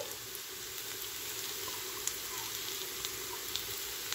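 Crushed ginger and garlic frying with onions in a pan for a mushroom curry, a steady, close hiss of sizzling oil running throughout with a few faint pops and no talking.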